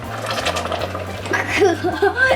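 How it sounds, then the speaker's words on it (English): Spanish rice simmering in chili sauce and warm chicken broth bubbles in a pot, with irregular soft pops and gurgles growing busier toward the end over a steady low hum, close and moderately loud. "It's bubbling."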